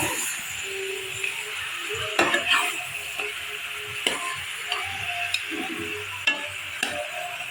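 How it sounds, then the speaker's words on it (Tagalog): A spoon stirs pork hock stew in a pot, giving soft scraping and a few sharp clinks of metal on the pot over a steady low sizzle and hiss, close and fairly quiet. "Halo-haloin natin."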